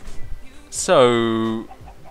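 A chicken in the Minecraft video game gives a single drawn-out cluck, close and clear against a quiet background.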